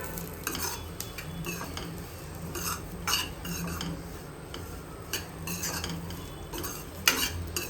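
White sesame seeds, coconut and garlic dry-roasting in a pan for curry leaf chutney, soft crackling under repeated sharp clicks and scrapes of a spoon stirring against the metal, close and fairly quiet.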